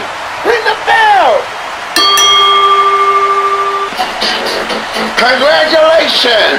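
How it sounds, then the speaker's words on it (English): A wrestling ring bell rung after a pinfall at an IMPACT! event, a single bright ding that rings out for about two seconds, with crowd noise and voices before and after it. "Ring the bell."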